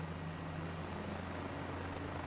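Helicopter flight in Microsoft Flight Simulator over the Nürburgring: a steady, continuous rotor and engine drone with a low hum, even and unbroken throughout.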